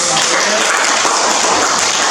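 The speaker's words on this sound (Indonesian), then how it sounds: "tepuk tangan dulu" A classroom or training group gives a short round of steady applause, close and fairly loud, with no talking over it.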